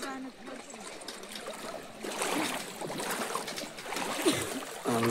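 Pilgrims on the Narmada parikrama wade through river water, with splashing, trickling and sloshing close by, under scattered voices.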